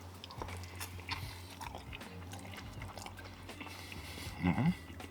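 Close, wet biting and chewing on a California burrito, soft squishy mouth sounds with a louder crunchy bite near the end and no talk.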